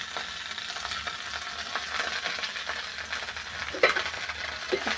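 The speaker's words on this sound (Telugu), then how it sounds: "ఒకసారి మునగాకు మొత్తం కలుపుకుందాం" Moringa leaves frying with mustard seeds in a pan, a soft steady sizzle with light stirring scrapes and a few sharper clinks near the end, heard up close with no talking.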